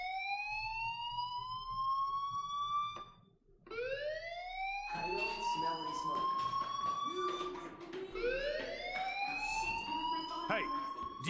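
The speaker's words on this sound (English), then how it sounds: "Hey, do you hear that fire alarm? That means you should be outside." A rising and falling whooping alarm from Life is Strange repeats in long sweeps, loud and continuous, with clatter and other noise building underneath during the later stretch.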